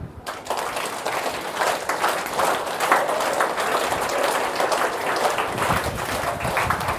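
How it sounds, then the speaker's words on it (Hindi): A group of schoolchildren at a moral-education session clap their hands raised overhead, a dense, steady wash of fast applause that holds loud and even for about seven seconds with no speech over it. "अभी ऊपर ताली बजाएंगे।"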